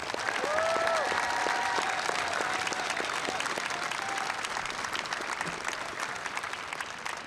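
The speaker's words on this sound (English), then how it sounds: "Let's have another round of applause for our graduates." Steady applause from a large crowd at a university graduation ceremony fills the space, sustained clapping that slowly tapers, with a faint voice briefly audible underneath.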